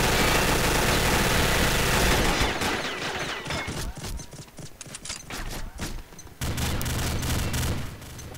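The Legion weapon in Combat Arms spools up with a sustained, dense whirring roar, then fires in a rapid string of sharp bursts before a brief renewed hum.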